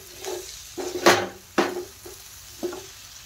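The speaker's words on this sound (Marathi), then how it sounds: "आता हे छान आता व्यवस्थित आपल्याला मिक्स करून घ्यायचं आहे परत." A spoon stirs stuffed bitter gourd in a pan, giving a few scraping and knocking strokes with a faint sizzle, close by and without talk.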